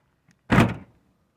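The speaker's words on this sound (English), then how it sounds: "Now, the door does shut." A van door shuts with a single solid thunk, close and moderately loud, then fades quickly into quiet.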